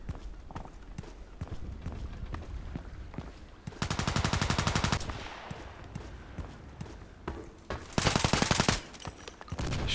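Gunfire from a sniper video game comes in two loud, dense bursts of rapid automatic shots, with scattered single shots and clatter between them, close and forceful.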